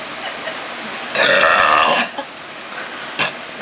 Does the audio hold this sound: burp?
yes